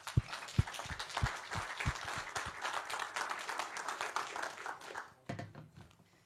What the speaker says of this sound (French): je souhaiterais qu'on vous applaudisse pour vous remercier